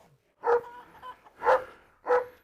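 A large dog, likely a Dogo or a Rottweiler, gives three deep, close barks at roughly even gaps, with quieter huffs between them.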